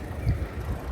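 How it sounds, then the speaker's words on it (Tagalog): Strong wind buffets the microphone outdoors in snowy Sapporo, a brief low rumbling gust with steady roar and no voices. "malakas na hangin"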